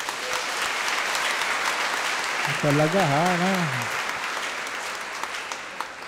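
A large audience at a Filipino homily claps loudly and continuously. Someone speaks briefly over the sustained applause.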